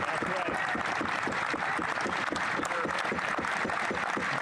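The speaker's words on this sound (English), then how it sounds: "gets some clapping." Sustained clapping from a large group in the Canadian House of Commons during Question Period fills the whole stretch, dense and steady, with voices mixed in underneath.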